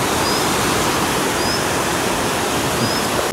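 A mountain stream on a trek route near Ghorepani and Poonhill rushes steadily and evenly, a dense continuous roar of flowing water heard close with no other sounds.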